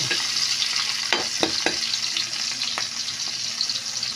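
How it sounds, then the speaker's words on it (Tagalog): Garlic and onion sauté in a hot pan for squid adobo, a continuous close sizzle broken by a few sharp stirring scrapes, with no talking. "ilalagay na natin yung bawang guys at isusunod natin ang ating sibuyas guys"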